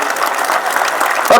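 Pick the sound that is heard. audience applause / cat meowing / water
audience applause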